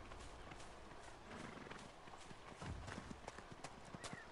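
Horse hooves in the Dragon Age: Inquisition video game clip-clop steadily over mountain terrain, a quiet rapid rhythm under ambient game sound.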